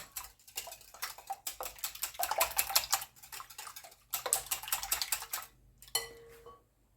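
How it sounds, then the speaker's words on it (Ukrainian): Four eggs and a pinch of salt beaten with a whisk in a bowl give a quick, steady run of light metallic clicks and taps, close and fairly quiet, pausing briefly between bursts. "І все вінчиком перемішаєте"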